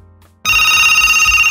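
A VoIP desk telephone starts ringing abruptly after a brief near-silence, with a loud, steady electronic trill that continues close up and alone.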